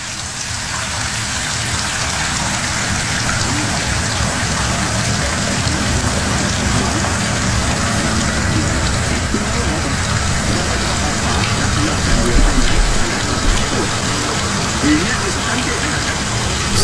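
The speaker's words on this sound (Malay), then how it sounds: "bunyi air mengalir dalam bathtub" Water runs steadily into a bathtub, a continuous loud hiss and splash with no break, staged as a sound effect in a Malay radio horror drama.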